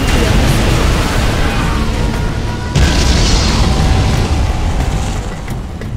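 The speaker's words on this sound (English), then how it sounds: "We have launched our nuclear missile." A nuclear missile explosion in the strategy game Shockwave gives a huge sustained roaring blast, loud and dense throughout, with a fresh surge of rumble midway.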